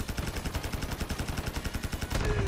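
A PP19 Bizon submachine gun fires in Call of Duty Mobile, one rapid, even-paced burst of close, loud shots lasting about two seconds before stopping.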